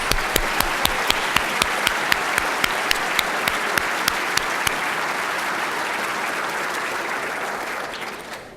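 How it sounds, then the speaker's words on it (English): Loud, sustained applause from an audience at an engineering society's annual meeting, welcoming newly elected members; dense clapping fills the room with a few sharp claps standing out early, then slowly thins toward the end. "Let's give them a big round of applause."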